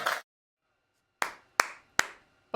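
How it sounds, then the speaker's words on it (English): Audience clapping in four sharp, separated bursts: a short patter, a gap of silence, then three crisp, close claps spaced evenly apart. "You can clap for that."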